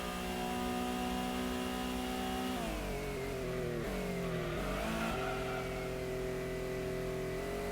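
Race car engines in Gran Turismo rev loudly and continuously, the pitch climbing and dipping through gear changes before holding a steady high drone, with no talking.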